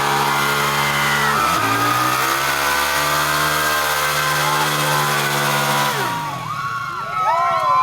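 A 2025 Honda CRF450R motorcycle doing a burnout, its engine held at high, steady revs that climb and then cut off, followed by a few sharp blips, loud and close.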